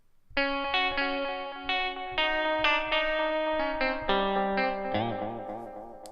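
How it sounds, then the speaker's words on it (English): Notes picked on a touch-screen guitar in a mobile beat-making app, shaped by Heavenly Chorus and Blue Echo effects: a steady run of bright plucked tones, each ringing into the next, ending on a wavering, shimmering chord. "It even comes with a couple of effects like Heavenly Chorus and Blue Echo."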